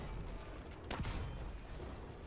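A VT1-2 tank firing one of its twin L-44 guns in War Thunder, a single muffled boom near the middle over a steady engine rumble.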